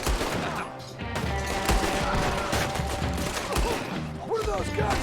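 A rapid barrage of overlapping gunshots and machine-gun fire in Red Dead Redemption 2, loud and sustained, with some sharp individual cracks.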